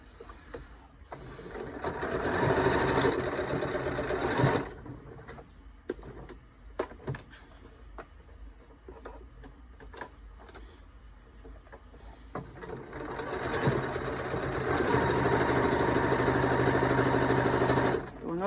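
Sewing machine stitching elastic onto a fabric face mask, sewing over the same spot more than once, in two loud steady runs with a quieter pause of handling noises between them.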